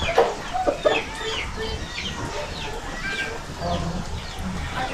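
A backyard rooster, father of newly hatched chicks, clucks in short repeated calls close by while someone talks over it, with other chicken sounds in the background.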